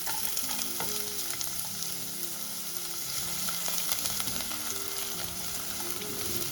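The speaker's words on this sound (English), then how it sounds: "Hear that sound, that sizzle?" Onions sautéing in olive oil for a Chicago-style deep dish pizza sauce, a continuous crackling sizzle with occasional stirring scrapes in the pan, close and steady without talk.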